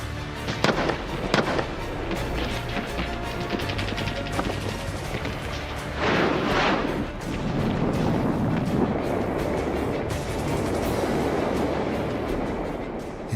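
Artillery and gunfire during WW2 street fighting in Manila, with dense, sustained crackling bursts and rapid popping reports over a continuous rumble, loud and close throughout.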